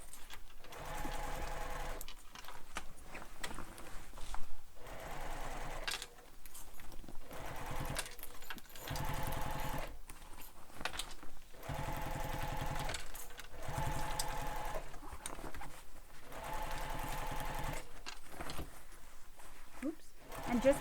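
A sewing machine stitches binding trim onto a backpack in repeated short, rhythmic runs separated by brief stops, with a person talking throughout.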